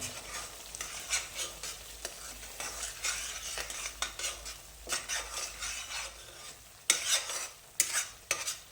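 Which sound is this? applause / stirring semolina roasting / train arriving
stirring semolina roasting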